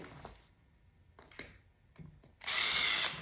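A power driver secures two screws on the elevated handle of a backpack fogger: a few faint clicks and handling noises, then a short, loud whir of the driver close by at the end.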